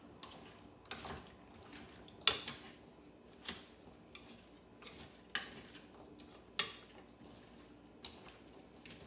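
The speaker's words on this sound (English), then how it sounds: "I'm going to mix it up some more." Utensils clink and scrape against a bowl as a summer salad seasoned with oregano and garlic powder gets tossed, a series of light, close taps spaced about a second apart with no talk.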